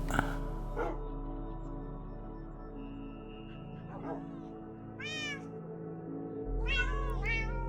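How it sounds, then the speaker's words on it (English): Minecraft cats in a cat house give several short, high meows spaced a few seconds apart, some overlapping in a quick pair near the end, over a low steady game hum. "the cat house up above, where we keep all the cats at."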